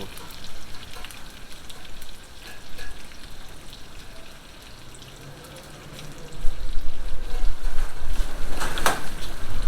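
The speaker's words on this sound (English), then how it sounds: "So I'm going to fry up these chops till I see all the juices running up on the top" Pork chops frying in a cast iron skillet give a steady, dense sizzle and crackle throughout, growing louder and busier over the second half with a few sharp pops near the end.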